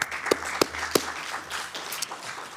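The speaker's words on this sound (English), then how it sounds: "They deserve a round of applause if you have it." Scattered, faint handclaps ripple through a Sacramento city council chamber. A few sharp individual claps stand out over a quiet room.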